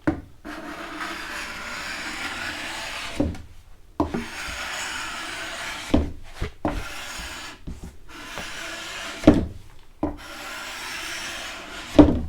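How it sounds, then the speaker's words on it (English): Carbide scraper drawn across walnut veneer to strip the last of the old varnish, a dry rasping scrape in long strokes broken by short pauses, close and steady with a few sharper knocks between passes. "I think I'm going to grab my carbide scraper and I'll give these guys a quick scrape."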